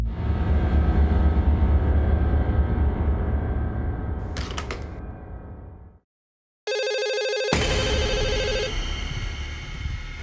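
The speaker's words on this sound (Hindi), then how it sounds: "मुझे फोन आ रहा है।" A telephone rings with a loud electronic ringtone, repeating warbling bursts over a rumbling background, then cutting out briefly before a sharper, higher-pitched ring resumes.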